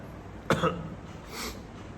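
A single short, sharp cough close by, with a fainter throaty follow-up, then quiet room tone.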